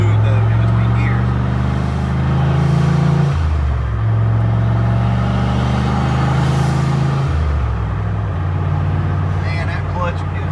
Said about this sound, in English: Listen how smooth though in between gears.